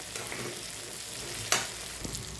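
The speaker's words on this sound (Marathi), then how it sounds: "माझा मसाला चांगला फ्राय होत आलेला आहे तेल सुटू लागलेला आहे" Masala sizzling in hot oil in a pan, a steady crackling fry with one sharper pop partway through, close and continuous with no one talking.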